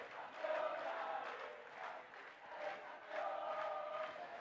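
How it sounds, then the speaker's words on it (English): An Argentinian crowd at a women's over-45 World Cup hockey final in Cape Town cheers in swelling waves, faint and distant, steady for a few seconds. "The Argentinian crowd are celebrating already."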